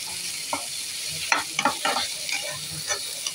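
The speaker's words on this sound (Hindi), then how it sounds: "कैरेट को ऐड कर दिया है, तो गाजर को कर लेते हैं, भून लेंगे हम थोड़ा सब्जियों को" Carrots and other vegetables frying in a pan for poha, with a soft steady sizzle and a series of scraping, clacking stirs of a spoon against the pan, close and fairly quiet, no voices.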